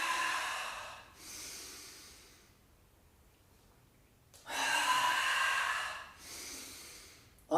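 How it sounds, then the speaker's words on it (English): Forceful breaths pushed out during a qigong breathing exercise for back pain: two strong, breathy exhales several seconds apart, close and fairly loud, separated by a quiet pause, with another breath starting at the very end. "On the exhale, you want to push your breath out."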